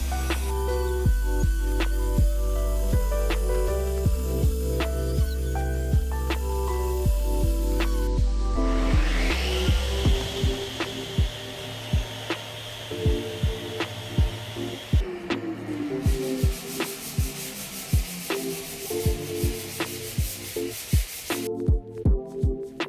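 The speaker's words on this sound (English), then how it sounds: "I'm cutting off all the edges." A saw cuts 45-degree bevels along the edges of wooden panels for waterfall nightstands. A loud machine drone runs first, then winds down into a string of sharp cutting and knocking sounds.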